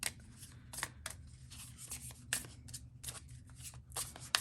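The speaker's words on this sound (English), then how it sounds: "I'm going to go ahead and give these a shuffle." Tarot cards riffle and slap softly in repeated quick bursts, close and quiet over a low steady hum, with no talking.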